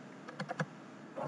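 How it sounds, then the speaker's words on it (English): Computer keyboard typing while a cost rate is entered into Microsoft Project: a few quick, close keystrokes clustered together, then a brief pause and a last soft burst of clicks, with no talking. "So let's go to Jonathan Miller and then just type"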